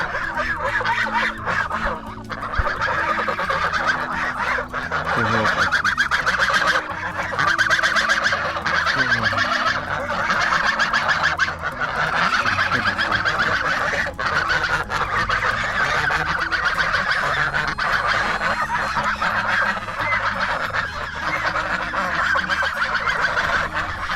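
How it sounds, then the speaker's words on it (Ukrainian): A flock of young, fast-growing, already large geese honking continuously and loudly, overlapping calls filling the whole stretch with a busy, nasal clamour. "Але ось такі гарні гуси."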